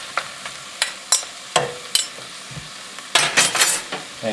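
Carrot, celery and onion stirred in a pan for Asian braised short ribs, with loud, close spatula scrapes and clinks against the pan in quick bursts over a soft sizzle, ending in a flurry of rapid strokes.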